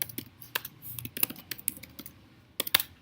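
Close, crisp keystrokes on a computer keyboard while writing a blog post, clattering in irregular bursts with short pauses and a few sharper clustered taps near the end, with no voices.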